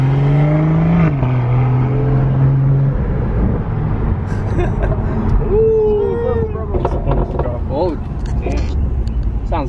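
A BMW F30 340 fitted with a Remus exhaust accelerates hard nearby, its engine droning and rising in pitch over road noise while people shout and talk excitedly over it.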